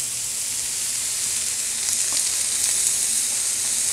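Romaine lettuce sizzles in melted butter on a Blackstone 36-inch griddle, a steady, loud, close frying hiss that fills the whole stretch with no pauses and no voices.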